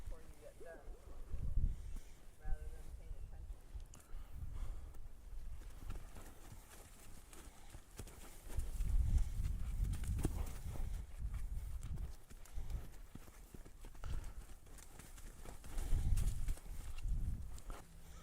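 A nervous, claustrophobic horse moves about, its hooves clip-clopping in uneven bursts of thuds at close range, with quieter stretches between them.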